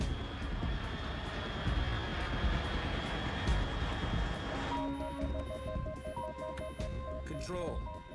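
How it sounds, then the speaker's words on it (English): Aircraft passing overhead in Metal Gear Solid 3, a broad rumbling engine roar that holds for several seconds, then gives way to beeping electronic tones and a radio-style voice. "Unidentified aircraft detected."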